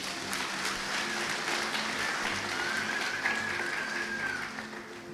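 A church congregation at a new bishop's first service breaks into sustained, dense applause that holds steady throughout and tapers slightly at the end, with no clear speech over it.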